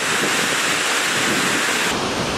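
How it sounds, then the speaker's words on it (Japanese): Fukuroda waterfall in Ibaraki, Japan roars as a steady, dense hiss of falling water, loud and continuous with no pauses, heard from a nearby viewpoint. "袋田の滝"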